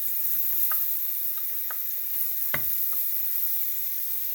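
Chopped onion for curry chicken gizzards fries in a pan with a steady bright hiss, broken by occasional soft scrapes and taps of stirring, including one sharper knock near the middle.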